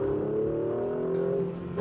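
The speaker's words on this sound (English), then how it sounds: "It pops on the upshifts." Mercedes C63 AMG engine revving hard with a steady loud drone rising through the gears, exhaust pops and crackles punctuating upshifts close by.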